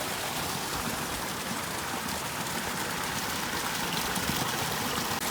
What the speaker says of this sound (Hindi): तो दोस्तों इधर भी पानी की आवाज़ आ रही है